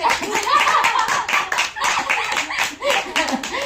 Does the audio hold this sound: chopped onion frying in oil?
no